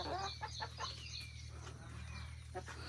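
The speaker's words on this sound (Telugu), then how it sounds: "బెదిరిస్తుందే పుంజు" Rooster clucking and calling near a village home among a flock of chickens at feeding time, several short bursts over steady low hum, with faint talk in the background.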